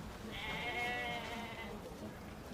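A single sheep gives one wavering, nasal bleat of about a second and a half. It sounds fairly close against a quiet, steady background murmur, with no speech.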